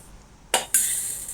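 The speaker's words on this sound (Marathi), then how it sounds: "जे काय भाजलेले, रोस्ट केलेले तीळ होते ते ह्या एका प्लेटमध्ये मी काढून घेत आहे." Roasted sesame seeds are tipped from a pan onto a plate, giving two quick bright rattling clinks close by, followed by a soft sustained patter of seeds settling.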